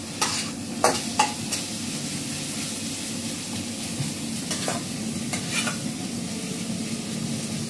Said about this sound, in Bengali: এদিকে পেঁয়াজটা ভাজা চলছে